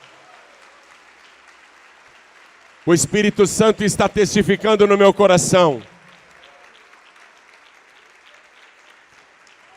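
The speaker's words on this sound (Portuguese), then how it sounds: "Vamos aplaudir mais ao nome de Jesus." A congregation applauds steadily at a church service, the clapping forming a faint, even wash before and after someone speaks loudly over it for a few seconds.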